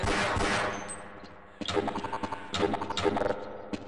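Gunfire in the first-person shooter Half-Life, a dense burst of rapid shots that fades, then several sharper bursts of automatic fire close by, with no talking.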